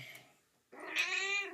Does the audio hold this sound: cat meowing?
yes